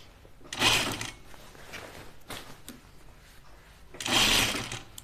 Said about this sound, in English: So sewing machine's pretty quick.